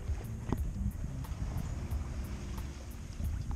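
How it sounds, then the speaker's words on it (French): Steady rushing wind and water noise aboard a sailboat under sail with reefed sails, cruising toward Badalona; a constant, fairly loud broadband roar with no talking. "on touche un peu plus de vent. On est tout à la voile."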